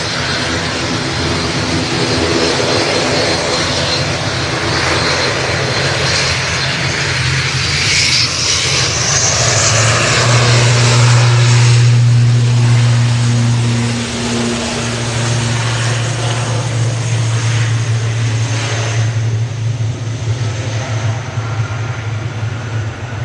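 Loganair ATR turboprop airliner at Manchester Airport, its loud, continuous engine drone and propeller hum filling the whole stretch up close, swelling slightly midway, with no talking.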